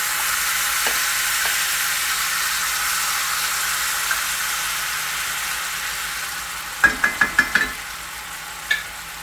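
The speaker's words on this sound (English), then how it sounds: "I'm just going to add some salsa." Salsa warming in a hot pan on the stove, a steady hiss of sizzling with a quick burst of utensil knocks and taps near the end.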